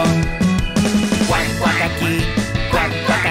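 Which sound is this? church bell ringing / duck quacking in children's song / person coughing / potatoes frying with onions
duck quacking in children's song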